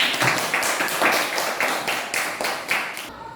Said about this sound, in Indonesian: Kasih aplaus dulu kepada mereka.